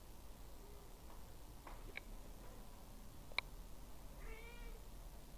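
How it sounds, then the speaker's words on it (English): A house cat meows insistently for attention indoors, several short, thin calls spaced across a quiet room with faint ticking, fairly close but soft, and no talking. "this fucking cat's annoying. It's like desperately begging for attention."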